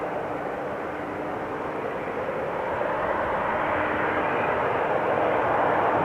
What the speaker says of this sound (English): KLM Embraer 190 arriving from Manchester